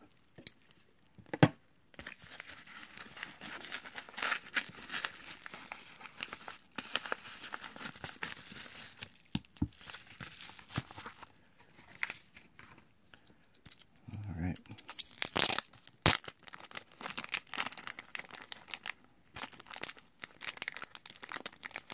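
Scissors cut through tape across the seal of a mailed prize package, with scattered close snips, crinkling and tearing of packaging over about twenty seconds of quiet handling.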